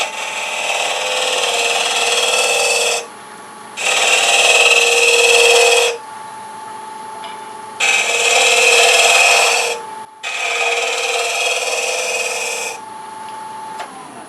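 A hollowing tool scrapes and rasps inside a wooden pencil pot spinning on a lathe, in four loud, steady cutting passes of two to three seconds each, separated by brief quieter gaps with the lathe humming between them.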